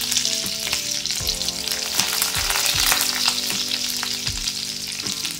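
Garlic and chillies fry in oil, crackling and sizzling loudly in a pan, with occasional clinks of a spatula stirring, continuous and close.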